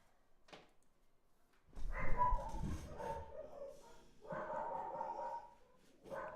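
Indoor dogs give a few soft, muffled barks and yips in short bursts, fairly faint and close, with quiet gaps between.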